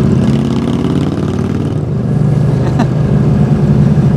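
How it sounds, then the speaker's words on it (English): Motorcycle engine revving through its exhaust during a bike swap ride, a loud steady low rumble that holds throughout, swelling and easing slightly with throttle, heard up close from the rider's position. "It's always fun hearing your own exhaust."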